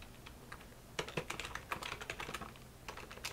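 A computer keyboard is typed on in quick, uneven bursts of crisp key clicks, close and clear with a low background hum and no talking.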